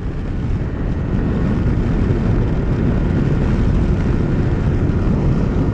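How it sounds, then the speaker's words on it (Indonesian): Kawasaki Versys 250 motorcycle ridden at top speed, about 140 km/h, in a standing riding position with a wide touring visor: a loud, steady roar of engine and rushing wind, continuous and close, with no talking. "Aku mau nyobain tes top speednya Kawasaki Versys 250"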